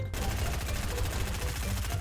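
Rapid gunfire in the Fortnite video game, a dense, continuous burst of closely spaced shots that stays loud and steady for about two seconds.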